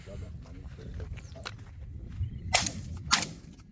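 Shotgun blasts while quail hunting in Pakistan, two sharp bangs close together near the end, over low outdoor rustling and murmuring voices.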